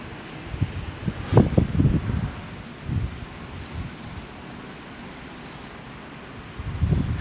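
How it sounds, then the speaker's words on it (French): Strong storm wind gusts in the Rhône buffet the microphone with rumbling bursts that build near the start, ease to a low rush, then surge again at the end, with no talk. "il y a une putain de rafale là qui arrive"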